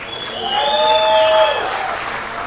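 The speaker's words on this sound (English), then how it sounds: "Let's give one final round of applause for the finalists." Applause for esports finalists at a live championship event in a Las Vegas arena, a crowd clapping steadily for a couple of seconds with some cheering mixed in.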